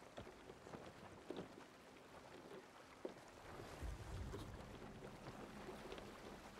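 Ship sailing on open sea in the game Sea of Thieves, a faint continuous rush of wind and water with soft creaks and bumps, no talk.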